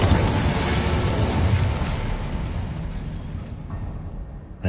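A sustained, roaring fiery blast from the Incendio spell in the Hogwarts Legacy video game, loud and dense throughout, easing slightly before cutting off abruptly.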